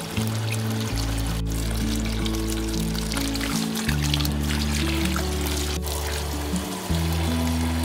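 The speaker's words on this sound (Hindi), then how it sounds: "अब फटाफट से पौधों को पे पानी डाल देते हैं।" Water gushes from a motor-fed pipe onto potted plants in a steady, unbroken pour lasting several seconds, loud and close, with a low tonal hum running underneath and no talking.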